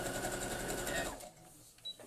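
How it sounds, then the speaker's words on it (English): A sewing machine stitching a backstitch on a fruit-shaped pin cushion runs steadily for just over a second, then stops. A short click follows near the end. "So I'm going to sew down about that much backstitch so it doesn't come unpicked."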